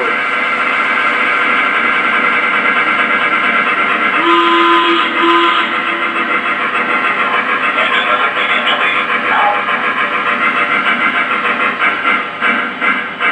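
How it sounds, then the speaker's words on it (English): A model 2-8-8-2 locomotive sound unit after a sudden throttle drop: continuous loud steam hiss and chuffing, a short two-note whistle blast partway through, then steady running noise with faint clanking. "Now what I'm going to do is make a sudden throttle change downward."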